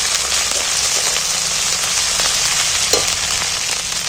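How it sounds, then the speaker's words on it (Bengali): Ginger and garlic fry in oil, producing a dense, loud, rain-like sizzle that stays steady throughout, with a brief stirring scrape near the end. "এক চামচের মতো আদা এক চামচের মতো রসুন দিয়ে দিন তেলের মধ্যে তেলের মধ্যে নাড়াচাড়া করে ভেজে নিন"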